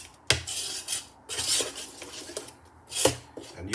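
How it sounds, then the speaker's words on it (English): Ackee, pork skin and flour batter being mixed together in a bowl, with several sharp clinks of a utensil against the bowl and scraping, stirring sounds in between, close and fairly quiet. "so we're going to mix all of this together"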